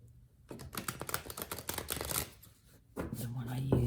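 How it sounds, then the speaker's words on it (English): A deck of tarot cards is shuffled briskly with rapid riffling flicks, pausing briefly before another burst, and a voice speaks faintly at the end. "And I'm going to shuffle these."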